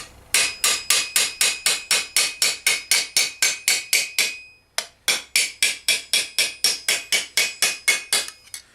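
Rapid, regular hammer blows ring out on a metal armour plate, smoothing out fluting, a long evenly paced run of sharp clanging strikes with one brief pause midway.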